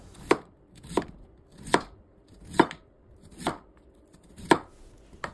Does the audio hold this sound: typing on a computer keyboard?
no